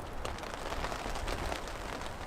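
Rain falls steadily at a campsite in New Zealand, a dense, even hiss of drops spread across the whole clip with no clear single impacts standing out.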